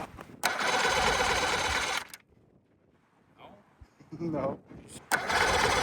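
A Honda four-cylinder outboard engine on a 1970s fishing boat cranks in two loud, long bursts from the starter, separated by a quiet gap where people talk briefly.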